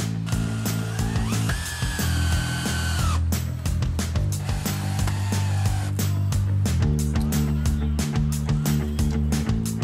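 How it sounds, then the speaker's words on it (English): A power drill bores pilot holes into wooden gate frame rails, its motor whining in steady bursts with rising and falling pitch, close and loud, broken by clicks and knocks of the work. "Drill pilot holes where you'll join the top and bottom rails to the side rails."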